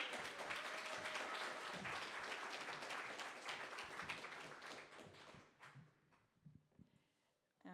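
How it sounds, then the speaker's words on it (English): An audience at an Earth Day public power event in Ann Arbor applauds a speaker, a dense, even round of clapping that thins out and fades away toward the end. "please give a warm round of applause for Michelle Deatrick"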